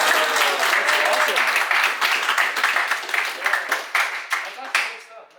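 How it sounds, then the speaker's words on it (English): A room of people gives a round of applause for league-honoured players, dense clapping with faint voices mixed in, then thinning into separate individual claps as it fades out. "Give them a round of applause."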